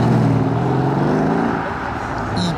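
A Mercedes CLS 63 AMG Shooting Brake goes past close by, its engine a loud, steady roar that eases slightly as it moves away.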